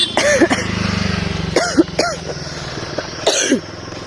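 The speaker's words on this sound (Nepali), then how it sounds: "मलाई चाहिँ खोकी लागेको छ" Several harsh coughs close by, coming in short bursts with pauses between them, over a low steady background hum.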